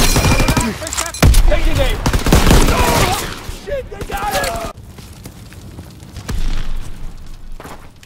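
Bomb blasts and gunfire from Call of Duty WW2 burst loudly in a dense barrage, with a heavy low boom and sharp cracks, then fading to quieter distant fire and rumble; voices call out among the battle noise.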